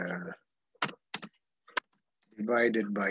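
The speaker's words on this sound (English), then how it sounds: "excuse my typing" A few separate clicks of typing on a computer keyboard come in short bursts between stretches of a man's speech, fairly quiet and close.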